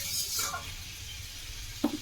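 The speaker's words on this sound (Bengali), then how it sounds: "ঢেকে ঢেকে ভাজা করবো।" Food fries in a covered pan with a faint, low sizzle. A brief clink of metal rings out near the end.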